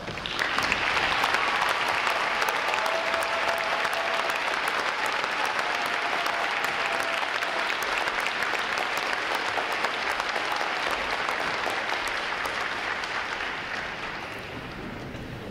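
A large crowd at a U.S. Navy Recruit Training Command graduation claps for standing veterans: loud, dense, sustained applause that holds steady for many seconds before easing off slightly at the end.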